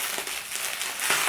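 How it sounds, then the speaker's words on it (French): Packaging around a parcel of candles crinkles and rustles as it is torn open by hand without scissors, short soft crackles heard close and fairly quiet. "Donc là je vais essayer de déballer, j'ai pas pris de ciseaux"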